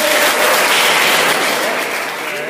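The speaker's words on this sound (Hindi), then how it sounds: "जोरदार तालियां बजा दो भाई सब लोग।" Loud, dense applause from a crowd of students at an Engineers Day celebration by a robo race track, steady and sustained before easing slightly near the end, with some cheering voices mixed in.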